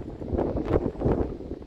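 Steady wind in the Scottish Highlands on a blustery morning after hail, a continuous broad rush and buffeting against the microphone that swells and eases, with no voices.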